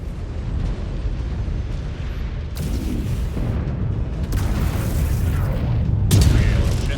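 Heavy missile blasts and booming impacts in the Mechwarrior 5 mech combat game, a continuous loud rumbling wall of explosions with sharper bursts near 2.5, 4.5 and 6 seconds.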